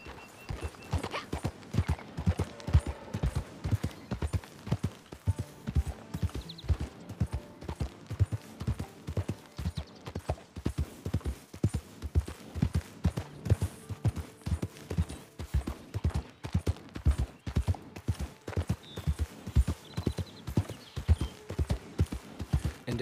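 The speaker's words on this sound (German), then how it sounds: "Und wir lassen Lassie reiten" Horse hooves in the Red Dead Online video game clip-clopping in a steady, brisk riding rhythm, clear and close throughout with no talk.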